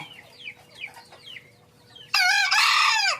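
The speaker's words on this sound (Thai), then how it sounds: "ลักษณะความแตกต่าง ของการขันของไก่ป่าชนิดนี้" Faint chirps and calls, then a loud, close green junglefowl hybrid crow bursts in, harsh and sustained for about a second.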